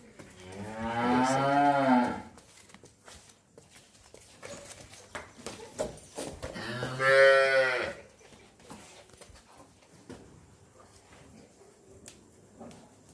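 Two loud, drawn-out moos from a nearby Jersey cow, separated by a few seconds of quieter barn noise and faint rustling.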